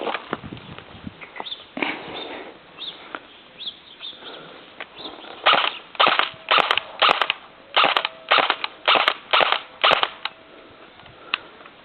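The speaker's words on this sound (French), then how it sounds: "maintenant, nous allons passer à quelques tirs" An airsoft M4 rifle fires outdoors, a few scattered single shots first, then a regular series of sharp, loud cracks spaced about half a second apart, with faint birds in the background.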